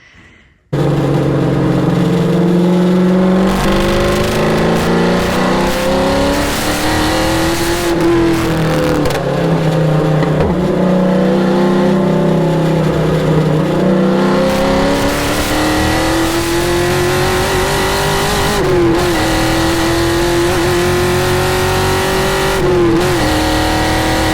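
A race car engine roars continuously, loud and close, at Podium Club, its pitch climbing and dropping through gear changes as it accelerates down the straightaway.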